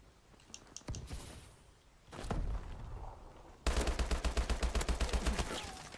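Video game gunfire, with a couple of sharp single shots and a short burst followed by a rapid, rhythmic automatic volley, heard up close and fairly quiet overall.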